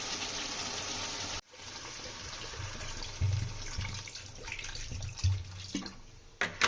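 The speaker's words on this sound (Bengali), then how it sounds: "এবার জল দিয়ে দেবো" Water is poured into a pan of potato and vetki fish curry in which the potatoes have already been fried in oil. It comes as a steady, fairly loud rushing pour, a brief gap early on, then gurgling splashes with no talking.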